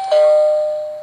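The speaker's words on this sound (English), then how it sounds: "There you go, that's the ring bell." A single electronic doorbell chime rings once from the speaker of a Nightwatcher NW700 robotic LED flood light, clear and close, its tone fading out over about a second.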